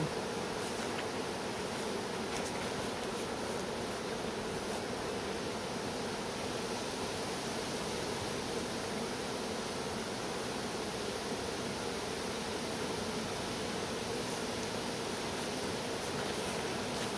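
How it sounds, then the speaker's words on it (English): Honey bees hum calmly at an open hive, a soft, even, continuous buzz of many insects with no breaks or talk. "just listen to how calm these bees are"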